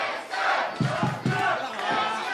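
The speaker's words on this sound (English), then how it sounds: "there's a small portion of this crowd chanting Rufguts, mostly chanting Kingston" Wrestling crowd at an Ultimate Championship Wrestling show in New Zealand chanting in unison, loud and steady, with rhythmic shouted beats cutting through the dense arena roar.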